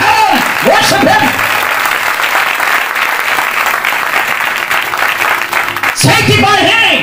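Worship congregation clapping hands, loud and continuous rhythmic applause filling the space, with a voice speaking over it at the start and again near the end.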